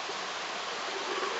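Steady, dense rush of river water flowing beside a campsite, a continuous broadband wash close by with no other sounds breaking through.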